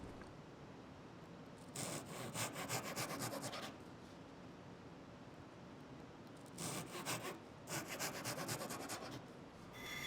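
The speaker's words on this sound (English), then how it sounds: "Next, I'll cut some short dowels." Short wooden dowels being hand-sawn, heard as two separate runs of rhythmic rasping strokes, close but fairly soft, with quiet gaps between them.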